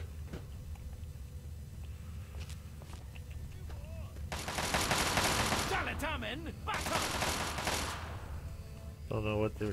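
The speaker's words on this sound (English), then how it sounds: "Don't know what they were shooting at." Bursts of automatic gunfire in Fallout 3, two loud sustained volleys of several seconds each with a short gap between them, over a low game hum and some speech.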